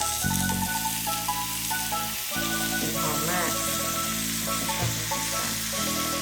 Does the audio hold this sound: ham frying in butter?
yes